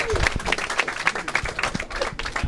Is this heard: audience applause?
yes